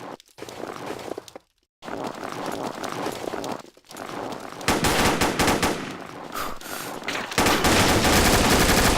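Rapid bursts of Mac-10 submachine gun fire in the game Combat Arms, loud, dense automatic rattles broken by short pauses, growing longer and more continuous toward the end.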